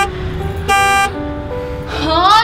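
A car horn honks in a short blast, then again with a rising, wavering tone, over background voices and street noise.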